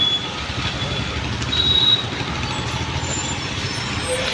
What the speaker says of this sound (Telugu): బస్సు వస్తుంది రే.